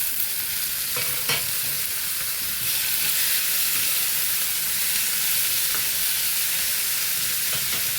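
Tomatoes sizzle and fry steadily in a pan for a tomato, mint and peanut chutney, a continuous close hiss with a few soft clinks of stirring.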